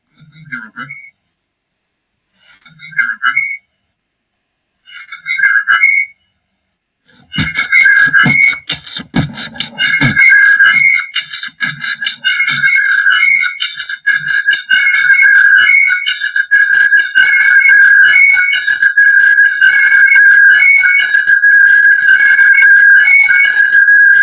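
Dog whistle blown in repeated short shrill bursts at first, then a long continuous piercing tone with steady fluttering overtones, loud and close.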